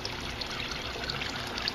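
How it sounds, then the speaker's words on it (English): Water trickles steadily back into a return pipe of a restaurant aquaponic system in Naples, Florida, making a continuous close splashing hiss with faint bubbling and no talk. "The water then returns to this pipe"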